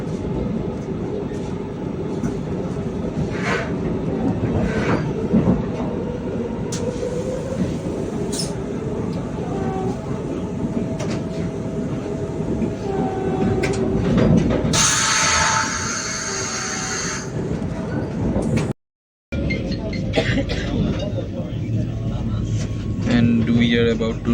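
Sanghamitra Express running on the line, a long steady rumble and clatter of wheels and carriages with rising and falling noise, a short dropout near the end and occasional voices underneath.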